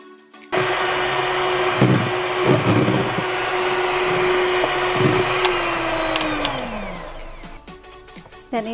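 An electric hand mixer beats batter for a coconut cake at speed 5, switching on with a loud, steady whirring drone that later slides down in pitch as it slows and cuts off.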